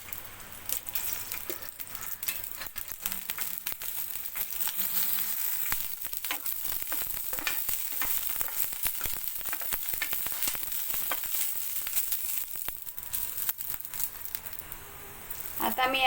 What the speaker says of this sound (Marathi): आता मी ह्या मिरच्या भाजून घेणार आहे।